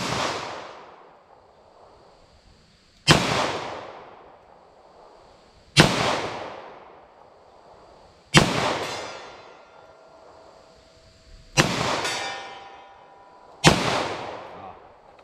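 Six loud handgun shots, 9mm and .38 Special with Federal Hydrashok ammunition, fired one at a time about every two and a half seconds, each a sharp crack with a ringing outdoor decay.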